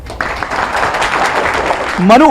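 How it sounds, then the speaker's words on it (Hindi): Students clapping at a madrasa, a loud burst of applause from a group filling the moment, with a voice rising over it near the end. "इनके लिए तालियां हो जाए"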